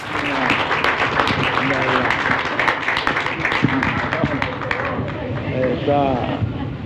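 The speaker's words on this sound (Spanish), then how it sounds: "Un cálido aplauso, por favor." Warm audience applause greeting a doctor about to give a talk on cacao use and domestication in Ecuador, a steady crowd of clapping with voices talking over it throughout.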